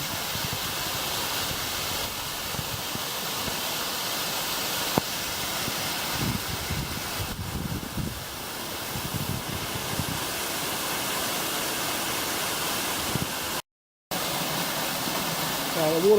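At Vera Falls, a waterfall and flowing water make a steady, rushing white-noise roar, with low rumbles and a brief dropout near the end.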